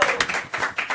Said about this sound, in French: Merci, on applaudit maintenant.